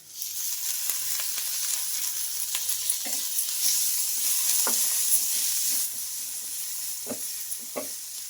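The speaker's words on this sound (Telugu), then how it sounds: "కొంచెం పసుపు పచ్చివాసన పోయే వరకు ఫ్రై చేసుకుందాము" Onions, green chillies and turmeric fry in a pan with a constant bright sizzle, while a spatula stirs and scrapes in occasional clicks, close and clear with no voices.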